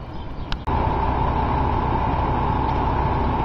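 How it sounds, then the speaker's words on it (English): A parked truck across a city street idles with a loud, steady low engine rumble that starts abruptly after a short clatter and then drones on evenly. "as you can hear from the truck that's parked across the street."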